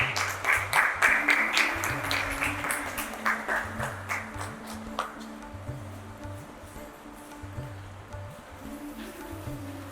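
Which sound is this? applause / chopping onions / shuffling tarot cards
applause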